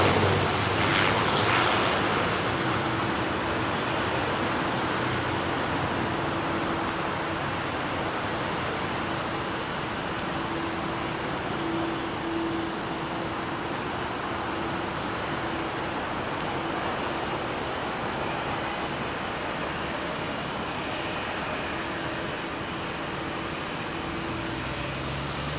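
Amsterdam-bound airliner departing Heathrow runway 27R, a steady distant jet rumble that stays fairly even and moderate throughout, with faint traffic noise beneath and no talk.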